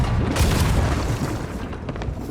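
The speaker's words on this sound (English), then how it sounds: "Grab a spare cannon and use it to make us an exit. Wall up ahead looks pretty unstable." A heavy, booming cannon blast breaks through an unstable wall in the pirate game Sea of Thieves, loud and close, followed by rumbling debris.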